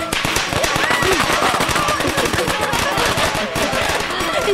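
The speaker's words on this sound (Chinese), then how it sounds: "放鞭炮，快点！" Firecrackers set off at a celebration for a son's exam success in a Qing-era palace drama, a dense, continuous crackle of rapid pops close by, with voices talking over it.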